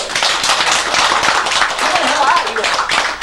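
Audience clapping at a Korean talk, dense rapid claps in a close, lively burst that continues through the moment, with some voices mixed in.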